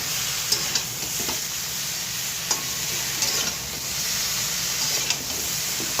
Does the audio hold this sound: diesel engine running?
no